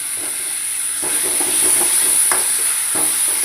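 Masala for paneer curry sizzling in a pan, a steady close hiss of frying with occasional soft stirring scrapes, continuous and fairly loud, no voices.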